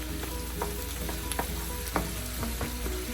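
Potatoes and onions sizzling in a pan, a steady close frying hiss with occasional sharp pops and light scrapes of stirring, no talking.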